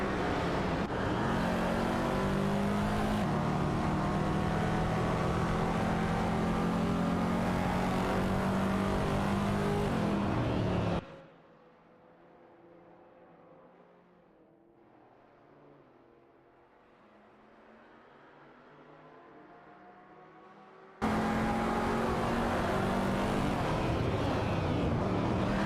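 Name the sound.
race cars accelerating at race start, from a video game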